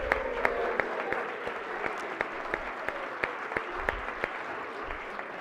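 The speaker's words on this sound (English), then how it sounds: "so if you can give him a round of applause." Applause fills the Senate chamber throughout, a steady wash of many hands with sharper individual claps popping out, moderately loud and without talk over it.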